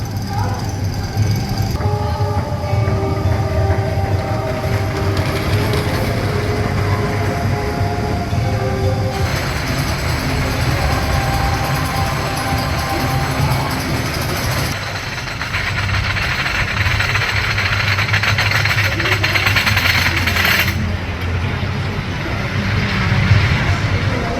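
The Invader roller coaster train at Busch Gardens Williamsburg rumbles and clatters steadily on its track, with a low mechanical drone and a recorded voice announcing over it.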